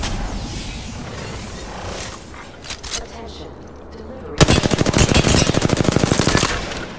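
Apex Legends gunfire: scattered shots and distant battle noise with a voice talking, then a loud, rapid automatic burst of evenly spaced shots for the last few seconds.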